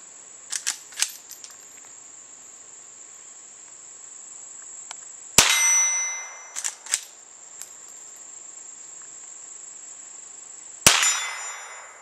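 A Henry Mare's Leg in .22 LR fires two sharp, loud single shots several seconds apart outdoors, with a constant high cricket drone and some light clicks of handling between them.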